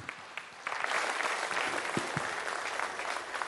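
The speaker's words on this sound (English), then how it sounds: "I think Dr. Jaishankar deserves a much rounder applause." Indoor summit audience applauding the External Affairs Minister of India: a few scattered claps swell into sustained, even applause from a large crowd.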